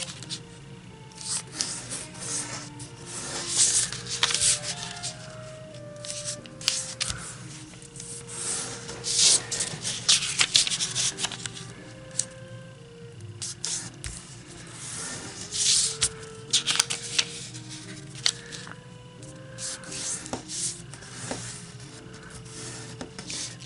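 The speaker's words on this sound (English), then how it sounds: "So fold the 4 corners to the middle." Origami paper being folded and creased, its corners folded in to the middle, heard as close, irregular rustles, crinkles and sharp crisp scrapes that continue on and off throughout over a faint background hum.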